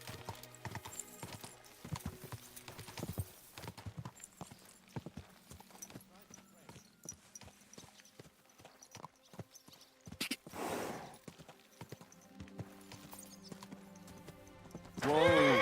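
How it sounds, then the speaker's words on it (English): Horse hooves clip-clop in Kingdom Come: Deliverance II, an uneven run of hoofbeats with a whinny, over game music and a voice talking. "Hurry up, horse."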